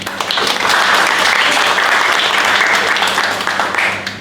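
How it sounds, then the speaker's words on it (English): Audience applause for the organisers Mondo at an SEO meet, a dense sustained burst of clapping that holds steady and loud, then thins slightly toward the end. "Please give Mondo a round of applause for organizing this."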